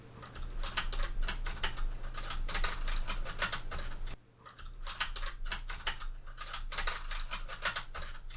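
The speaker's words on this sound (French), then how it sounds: "Test clavier NW800." Typing on a computer keyboard recorded through a Neewer NW800 microphone into a Zoom H4n, with steady clusters of key clicks, a brief break midway, then renewed typing over a faint background hum.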